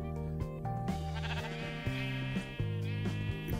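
Sheep bleating in the video game Minecraft, a few wavering bleats rising over steady background game music, moderately loud and close, with no talking.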